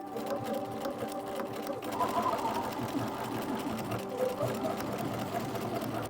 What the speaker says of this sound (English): Take this to the sewing machine and add 1 single stitch down the middle of each twill tape.